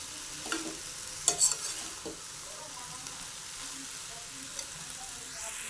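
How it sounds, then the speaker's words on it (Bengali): A spice mixture being stirred with boiled banana stem in a pan, soft scraping and stirring over a faint sizzle, with a few brief clinks near the start, quiet and close. "এটা দিয়ে আমাকে এটা ভালো করে নাড়াচাড়া করে নিতে হবে"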